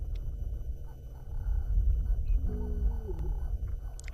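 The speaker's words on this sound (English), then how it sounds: "There she is. She's roaring again." A lioness of the Nkuhuma pride in South Africa gives a low, drawn-out roar, faint and distant beneath a steady engine-like hum.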